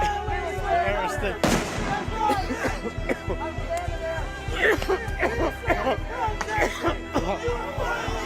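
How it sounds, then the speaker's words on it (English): Rubber bullets and smoke grenades are fired into a protest crowd: repeated sharp bangs and pops, one very loud near blast early on, over constant crowd chatter and shouting. "They are firing rubber bullets and smoke grenades."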